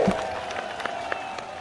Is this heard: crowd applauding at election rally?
yes